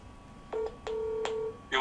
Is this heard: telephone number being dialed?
yes